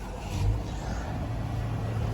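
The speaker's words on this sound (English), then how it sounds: "Jump inside, turn the car on." A 2018 Subaru Outback engine starting up, a low steady idle rumble after a brief rise at the start, heard close without speech.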